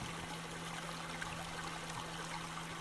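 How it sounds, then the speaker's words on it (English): Water pouring out and trickling steadily in the Myst (2021) puzzle game, a quiet continuous flowing wash over a faint low hum, with no voices. "Well, now the water's just coming out."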